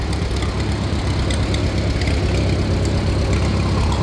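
An old Caterpillar machine that sat unmoved for nearly 50 years runs steadily, its heavy engine idling with a loud, dense low-pitched rumble and a faint knocking texture throughout, with no voices.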